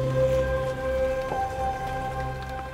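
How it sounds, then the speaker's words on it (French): Steady rain falls during a thunderstorm over the town centre of Issoire, a close, continuous patter on hard surfaces with a faint hum beneath and no voices. "un orage surprend les gendarmes"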